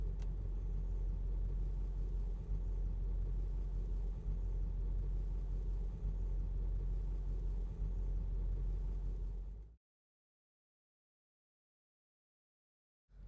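A pickup truck towing a fire safety trailer drives at roughly 10 mph, giving a steady close engine and road rumble with faint periodic thumps, then cutting off abruptly into silence near the end.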